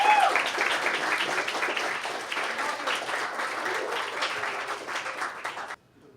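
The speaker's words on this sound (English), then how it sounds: "So give a round of applause for our instructors." Guests at a summer appreciation luncheon applaud their instructors with sustained clapping that gradually thins, then cuts off abruptly into near silence.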